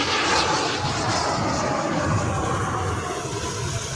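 A jet airliner at Los Angeles International Airport sends out a loud, steady roar of engine noise that holds without a break, with no voices over it.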